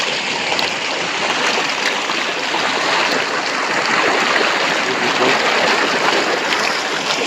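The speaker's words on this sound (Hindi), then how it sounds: "ये देखिए इसका पानी यहाँ पहुँच जाता है" Water diverted from a hillside stream rushes steadily down a channel, a dense, continuous close-up gush with no pause.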